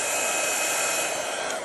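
A heat gun, used like a hairdryer, blows on an acrylic piece as a loud, steady whooshing hiss, close and unbroken.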